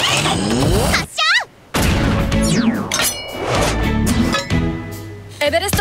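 Everest's cartoon grappling hook fires in Paw Patrol, with a rising then swooping whistle followed by a descending zip as the line shoots out. It plays loudly over busy background music and other effects.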